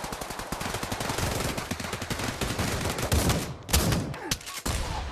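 Rapid gunfire in the Pavlov VR video game, shotgun blasts rattling off in dense, fast bursts that fill the scene, with a brief gap and a louder burst near the end.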